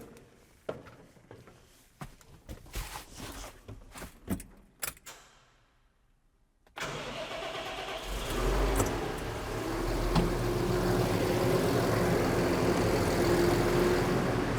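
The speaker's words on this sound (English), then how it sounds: "So let's start the engine." Keys jingle and click, then an alternative-fuel car engine cranks and catches, settling into a steady, close idle hum.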